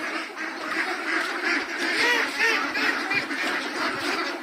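A large flock of ducks at a duck farm quacks continuously and densely, with many overlapping calls close by and no talking.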